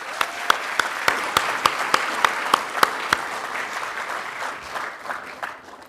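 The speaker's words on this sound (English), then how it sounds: "Let's give them a round of applause." An audience at a college commencement ceremony applauds its graduates. Sharp, evenly spaced claps ring out at first, then blend into a softer, steady wash of clapping that fades.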